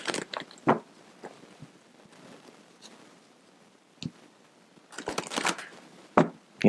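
Cards being shuffled for a card reading, with quick papery riffles and taps in short bursts separated by quieter handling, close and moderately soft.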